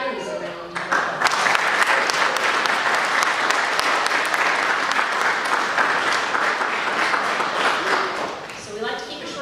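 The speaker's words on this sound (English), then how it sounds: "So let's give our family and friends a round of applause." Families and friends applaud at a fall graduation ceremony, sustained loud applause from a large crowd that swells and holds before easing off, with a voice speaking briefly at the start and again at the end.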